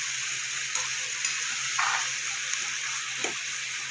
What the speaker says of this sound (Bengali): লবণটা দিলে আমার তাড়াতাড়ি পেঁয়াজটা নরম হয়ে যাবে,